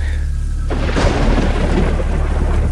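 Heavy rain pours steadily with deep rumbles of thunder rolling underneath, a loud, close storm on a night in a village setting, with no voices.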